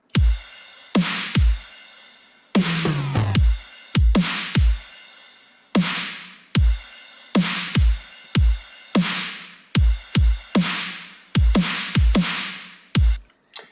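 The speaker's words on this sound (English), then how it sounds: "So I'll break it down starting with the drums, which are the simplest part probably. It's just a kick, snare, and crash." A simple programmed drum beat of kick, snare and crash plays alone in a loud, steady pattern, with regular punchy hits and washes of cymbal throughout.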